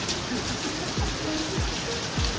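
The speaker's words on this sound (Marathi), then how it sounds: "पाऊस खूप पडतोय." Steady, dense rain pours down during a drive in a continuous hiss, with a few low thumps breaking through the downpour.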